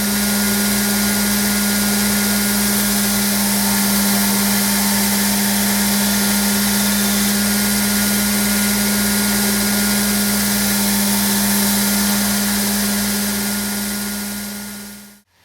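A belt grinder runs a 220-grit aluminum oxide belt against a knife blade, a loud, constant motor whine and abrasive rushing hiss holding steady for about fifteen seconds before winding down at the end, no voices.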